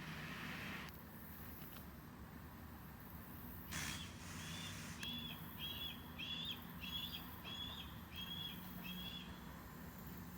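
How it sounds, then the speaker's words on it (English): A raptor's repeated high, piercing calls sound at a distance over a constant background rumble of road traffic. "That is the red-tailed hawk."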